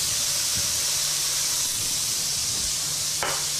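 Okra going into a hot duck and andouille gumbo pot gives a steady, close hiss and sizzle that holds throughout, with a brief sharper burst of spatter near the end.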